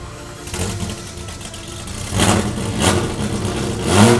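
A modified 700hp Ferrari F40 engine runs close by, a deep steady idle that swells in a couple of short revs before settling, loud and alone without talk.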